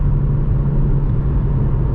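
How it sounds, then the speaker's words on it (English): A steady, loud low engine drone hums continuously from inside a moving 2020 Mazda CX-30 with a 180 hp SkyActiv-X engine in low gear, with a constant rumbling tone and no talking. "Now when you're lower gear, the engine is obviously noisy."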